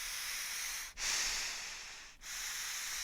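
Strained, hissing breaths drawn through a resistance breathing trainer worn during an at-home workout, two long airy inhale-exhale cycles separated by short pauses, close and steady with no talking.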